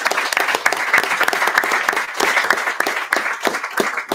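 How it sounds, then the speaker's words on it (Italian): An audience at an Italian talk show about One Piece claps for a guest named Massimo, a brisk round of close, dense handclaps lasting a few seconds. "Io farei un applauso all'amico Massimo."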